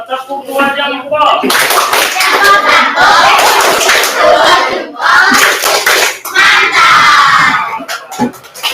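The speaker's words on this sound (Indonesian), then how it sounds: "Kalau cukup untuk para siswa tepuk 2 jempol." Students at a school gathering perform a rhythmic group clap, loud and close, in several bursts of patterned clapping mixed with chanting and shouting voices, with a brief lull between rounds.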